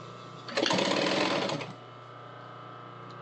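A sewing machine runs a short, loud burst of steady stitching on the yoke of rain chaps, then drops back to a faint motor hum.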